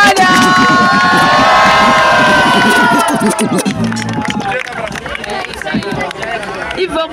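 A crowd at a Brazilian rap battle cheers and shouts loudly for several seconds, then fades into scattered voices and babble as an announcer talks.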